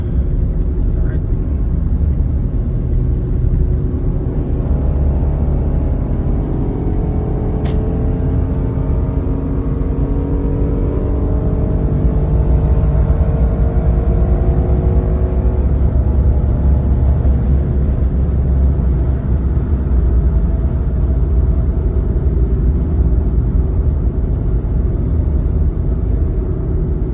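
Porsche Cayenne in sport mode cruising at highway speed after warming up, with steady loud road and tire rumble and a smooth engine drone filling the cabin continuously, with no talk.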